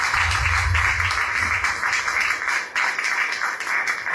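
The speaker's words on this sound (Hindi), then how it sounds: "सज्जन जोरदार तालियों से प्रभु का" Sustained applause from a church congregation praising the Lord during a Hindi-language service, a dense, steady wash of clapping at fairly constant loudness throughout, with no talk over it.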